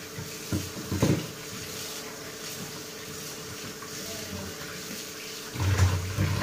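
Tap water runs into a sink while fish is washed by hand, a steady splashing flow with a few louder bursts of splashing near the start and end, and no talking.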